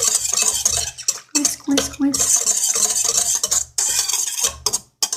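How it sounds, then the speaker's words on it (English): A whisk stirs yeast into bread dough in a mixing bowl, a steady rapid scraping and clinking of wire against the bowl that runs almost nonstop, broken by a few short pauses. "I need to whisk in the yeast"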